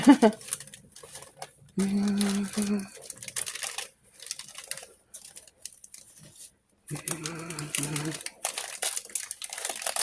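Wax paper crinkles in bursts while a hot sponge cake is rolled up into a log, with steady rustling separated by quieter gaps and a faint tonal hum in the background.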